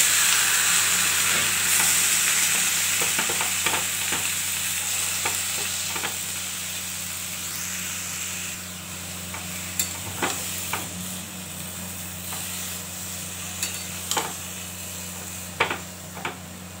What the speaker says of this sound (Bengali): এবার এটা দিয়ে দিচ্ছি কুমড়ো